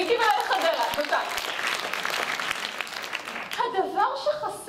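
An audience applauds with a burst of clapping that swells and fades over several seconds, with a voice speaking over it near the end.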